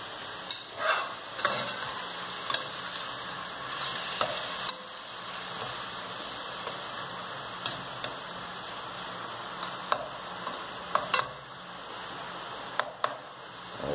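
Chicken liver frying in a pan, a soft continuous sizzle with occasional stirring scrapes and clicks, close and fairly quiet throughout.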